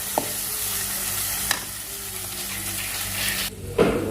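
Chilli-ginger paste fries and gets stirred in a pan for chicken sukka, a steady close sizzle with scraping strokes and a brief clatter near the end, no talking.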